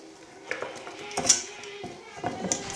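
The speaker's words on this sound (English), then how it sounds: "Stir it up good till it makes a smooth batter" A spoon scrapes and knocks around a bowl of pita batter made with bread flour, with irregular clinks and scrapes at close range and a few faint vocal sounds in between.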